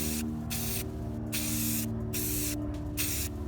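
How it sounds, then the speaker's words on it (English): Spray paint hisses onto a $1 thrift store fur chair in several steady bursts separated by short pauses, close and fairly loud with a constant low hum underneath. "just give it an even coat of spray paint and let it dry"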